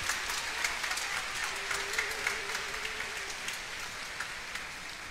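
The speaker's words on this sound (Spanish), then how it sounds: "Vamos a darle un aplauso a todas las religiosas y religiosos" Faint, distant applause from a congregation at a Mass honoring the Purísima, a soft rain-like patter of many hands clapping continuously, with a low tone briefly running beneath it.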